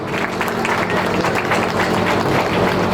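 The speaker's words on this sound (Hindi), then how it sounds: "चलिए, अपने टीचर्स के लिए आप लोग जोरदार ताली बजाओ।" An audience at a school event claps for the teachers in a dense, sustained round of applause, steady and loud throughout with a crowd murmur beneath.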